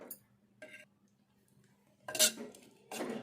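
A utensil mashes a boiled tomato and brinjal curry in a pot, giving a few brief metallic clinks and scrapes separated by quiet pauses, with a louder burst of scraping near the end.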